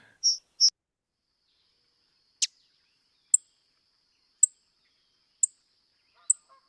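A few sharp, high, isolated chip notes from a song sparrow, spaced about a second apart against near silence.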